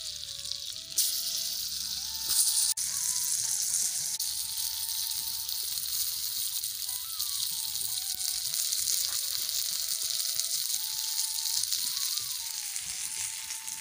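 Eggplants hit hot oil and pounded masala in a home kitchen pan, giving a loud, steady sizzle and frying hiss that carries on unbroken, with occasional stirring scrapes and a faint tonal whine underneath.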